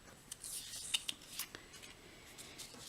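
Scissors snip through Dapper Denim cardstock in a quiet room, a handful of short crisp cuts scattered irregularly, soft and close with faint rustling of the paper between snips.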